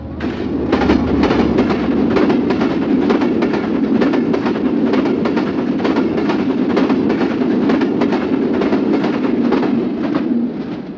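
The Seemanta Express, a Bangladeshi train running between Khulna and Chilahati, passes at top speed with a loud, continuous rumble and a steady rhythm of wheel clacks for the whole stretch, with no voices.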